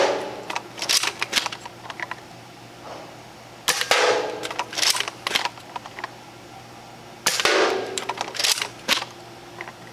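Air-rifle-style plinking shots while sighting in a Hiram Optics scope: a few sharp, close reports spaced several seconds apart, each followed by a brief rattle, over quiet background hum.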